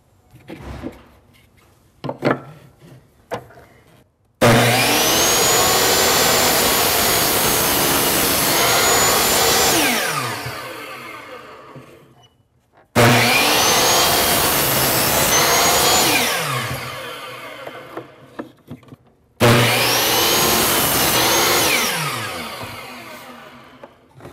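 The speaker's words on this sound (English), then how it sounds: "now I'm going to demonstrate the 3 cuts you can get with a compound miter" A compound miter saw spins up and cuts through wood three times, each a loud, sustained whining cut that winds down, with quiet handling noises in between.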